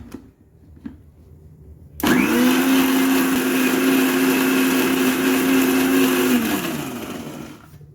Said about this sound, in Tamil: அதுக்கு தான் வந்துட்டு துவையல் பண்ணலான்ட்டு அரைச்சேன்